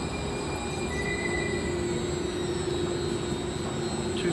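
Siemens light rail car on the N Judah line running outbound toward Ocean Beach, a steady loud rolling rumble with a droning motor tone and faint high wheel squeal throughout.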